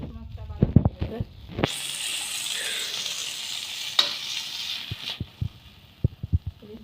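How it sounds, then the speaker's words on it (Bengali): Hilsa fish frying in a pan: a loud, steady sizzle lasting a few seconds, framed by sharp clinks and clatters of a utensil stirring or turning the fish before and after. "ইলিশ মাছ আমি বেশি কড়া করে ভাজবো না, একদম হয়ে গেছে।"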